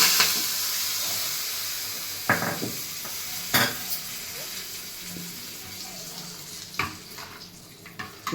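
Hot tempering poured into brinjal pulusu, a raw tamarind stew, gives a steady hiss of frying with sharp stirring clatters and spoon knocks breaking through. No one speaks.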